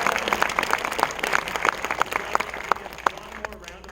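An audience applauds a film crew at a premiere Q&A, a crowd of clapping hands with distinct sharp claps standing out and fading slightly toward the end, while voices talk faintly underneath.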